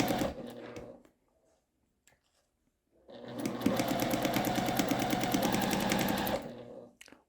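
A sewing machine stitches a quilt seam for half-square triangles, first a short burst of stitches, then a pause, then a steady, fast rhythmic run of about three seconds, heard close with no talk.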